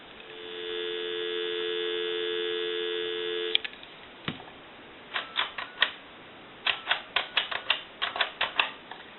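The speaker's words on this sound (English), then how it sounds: "Give you some dial tone." Steady dial tone from a repaired Western Electric 2554 telephone, holding for about three seconds before a click, then a series of short sharp clicks and taps follow.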